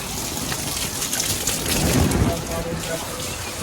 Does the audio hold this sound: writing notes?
no